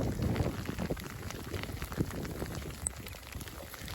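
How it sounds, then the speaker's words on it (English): Hail and rain fall outdoors in a soft, constant patter and hiss, with scattered small impacts and a faint low rumble, fairly quiet and with no talk. "Go metal detecting in the hailstones, why don't you?"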